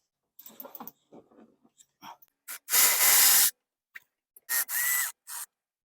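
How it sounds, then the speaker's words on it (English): Tools work on the 12mm brake caliper bolts of a 1994-2001 Acura Integra's rear brakes: soft scattered rubbing and clicks, then two loud, close bursts of mechanical noise separated by a brief pause, with no speech. "For the driver's side, we take out this bolt and that bolt, which are 12mm, to take the caliper off"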